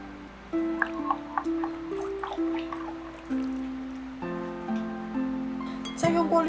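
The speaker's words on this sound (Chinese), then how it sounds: "再用过滤勺过滤一下，这样做出来的肠粉会更细腻。" Rice flour batter made from rice flour and water pours through a strainer into a container, giving soft trickling and dripping with faint tonal ringing and a few light clinks, fairly quiet and close.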